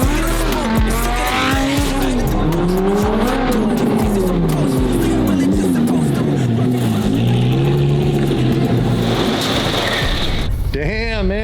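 A McLaren 720 GTR supercar drives hard, its loud engine note rising and falling through gear changes with tire squeal, music playing underneath and a brief burst of revving near the end.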